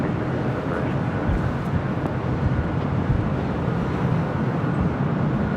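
A jet airliner rolling for takeoff at LAX, a steady broad engine roar that holds loud and even throughout, mixed with some wind buffeting on the microphone.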